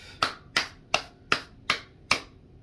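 A hand smacks the fretboard of a Les Paul copy guitar being modded, six sharp, evenly spaced slaps over about two seconds, close and moderately loud with a quick decay and no voices.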